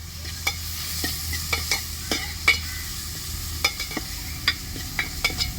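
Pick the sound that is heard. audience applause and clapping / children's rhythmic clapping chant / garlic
garlic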